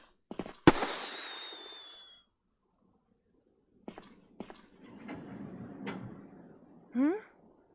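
Signal rockets fire in Resident Evil HD: a sharp crack followed by a long whooshing hiss that fades, then quieter clicks, shuffling and a short rising whistle.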